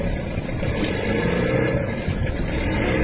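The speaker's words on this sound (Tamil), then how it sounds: "இப்போ இன்ஜின் ஸ்டார்ட் ஆகிட்டு போட்ட இன்ஜின் இப்போ ரிவர்ஸ்லேயே போகுது" A boat engine runs in reverse gear on a boat ride, a continuous close rumbling drone with a steady low throb and a slight rise and fall in revs, no talking over it.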